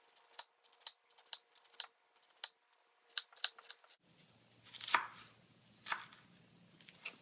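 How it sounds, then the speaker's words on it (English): A knife dices onions on a cutting board, a quick run of about a dozen sharp close chops, then a few duller scraping strokes, with no voices. "you want to dice up your onions. So I'll just do that really quick"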